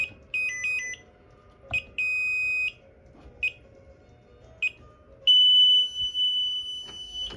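A security panel's panic alarm sounds in loud electronic beeps, several short chirps and a sustained tone, ending in a long continuous piercing wail.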